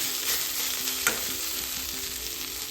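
Vegetables fry in a pan with a continuous close sizzle, and a spatula stirs and scrapes now and then.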